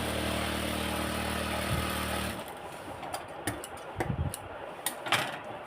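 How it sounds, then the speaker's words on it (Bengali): A sewing machine double-stitching a pajama runs in a steady loud whir for about two seconds, then stops, leaving scattered clicks and light handling taps up close. "আমি ডাবল করে সেলাই দিচ্ছি"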